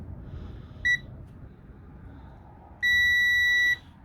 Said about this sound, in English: Test a bit of continuity here.